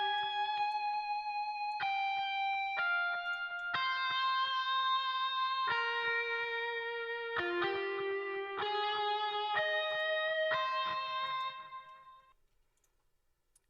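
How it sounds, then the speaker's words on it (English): Synthesized guitar lead from Omnisphere in a hip-hop beat made in FL Studio: a clean, bright melodic line of plucked notes in a steady rhythm, played alone and clear, fading out at the end. "this guitar lead from Omnisphere, which I have right before the end of the song, which sounds like this"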